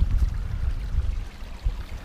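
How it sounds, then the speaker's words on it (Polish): A small stream trickles among trees, heard as a low, murmuring wash that comes close and uneven and swells in brief surges. "Doszedłem do drzew i tutaj jest strumyk"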